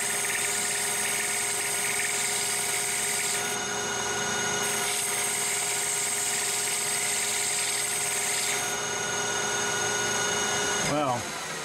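A lathe turns heat-treated CrMo 4140 steel, giving a loud, steady machining whine with a strong sustained tone and some brief shifts in pitch, ending in a quick falling sweep as the cut stops.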